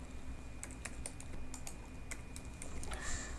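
Rapid clatter of a computer keyboard while coding an HTML and CSS website template, irregular key taps close up over a steady background hum, with no talking.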